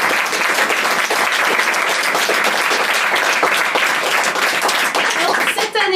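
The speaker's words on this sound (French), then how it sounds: "Je vous demande d'applaudir Léo." Loud, dense applause from an audience at a performance event in Aix-en-Provence, a thick wash of clapping that holds steady for several seconds before starting to thin out right at the end.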